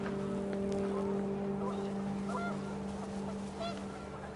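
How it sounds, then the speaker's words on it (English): Panicked geese honk in the video game What Remains of Edith Finch, short scattered calls rising over a steady droning wind bed. "The wind picked up, and panicked geese appeared and quickly went."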